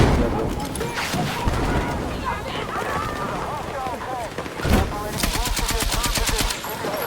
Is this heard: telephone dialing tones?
no